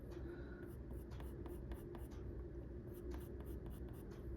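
A colored pencil rubbing on paper in short repeated strokes while drawing a white-breasted nuthatch, soft and close, with a quiet voice talking underneath.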